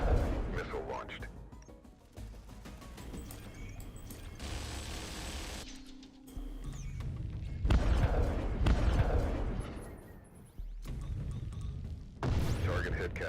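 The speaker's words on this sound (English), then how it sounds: "Missile launched." A sci-fi starship in the game Breachway launches a missile and scores a hit. Booming blasts and mechanical whooshes rise and fall over several seconds, and a voice speaks partway through.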